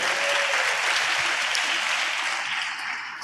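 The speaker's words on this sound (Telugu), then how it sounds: "చప్పట్లు కొట్టేం బాగానే ఉంది" Church congregation applauding during a Telugu Christian sermon, a broad, even wash of many clapping hands lasting a few seconds before tapering slightly at the end.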